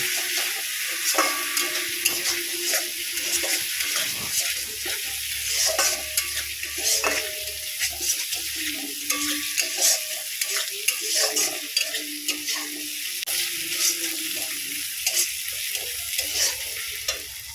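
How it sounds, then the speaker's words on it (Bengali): Spice paste with chili powder and a splash of water being stir-fried in a pan for a potato, taro and fish curry. A close, continuous sizzle carries repeated scraping strokes of a spatula across the pan. "অল্প একটু জল দিলাম, দিয়ে মশলাটা খুব সুন্দর করে আরও কিছুক্ষণ কষিয়ে নেব"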